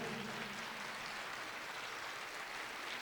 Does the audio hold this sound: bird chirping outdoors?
no